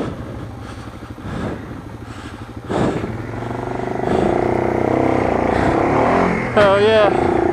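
A vehicle engine revs and labours while the driver downshifts gears on a rough track, rising and falling in pitch with a whine near the end, with people talking over it.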